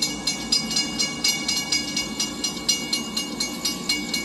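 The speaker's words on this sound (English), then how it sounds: "Here comes the intermodal." A CSX intermodal freight train rolls past nearby, loud rhythmic clickety-clack of wheels over rail joints repeating steadily, with no voices.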